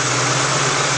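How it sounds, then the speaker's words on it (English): A car engine fitted with a hydrogen booster idles steadily, a loud, even broadband hum with a low rumble and no variation in pitch, heard close with no voices. "Engine sounds nice, it smells healthy."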